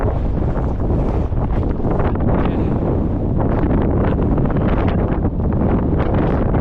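Strong wind buffets the microphone nonstop on an open mountain hike in the Coniston fells, a loud, dense roar with gusty surges and no letup.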